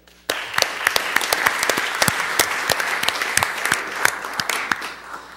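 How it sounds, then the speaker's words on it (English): Audience at a Peoria city council meeting bursts into applause after a brief quiet start, a steady wash of many hands with distinct loud claps scattered across it, continuing for several seconds. "Let's give a round of applause to our neighbors of the city of Peoria"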